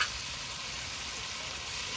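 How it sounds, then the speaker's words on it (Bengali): Hilsa fish is stirred in a pan after a little water has gone in, giving a soft, continuous sizzle with light stirring scrapes, fairly quiet and steady, with no voices. "মাছটা একটু নেড়ে চেড়ে ঢাকা দিয়ে দেবো"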